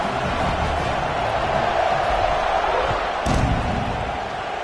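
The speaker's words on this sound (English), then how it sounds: "this crowd is buzzing after that last score" A college football stadium crowd at a game against Arkansas roars with a steady, dense buzz after a score, with a single dull thump rising briefly above the wash of noise.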